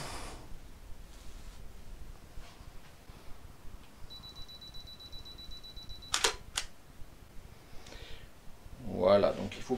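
Camera shutter clicks while photographing arranged food ingredients, two or three sharp close clicks in quick succession amid quiet room noise, followed by a brief voice.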